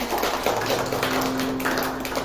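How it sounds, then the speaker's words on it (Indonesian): A church congregation claps at a worship service, a steady wash of applause at moderate level with a low tone humming underneath and no speech. "Boleh kasih tepuk tangan"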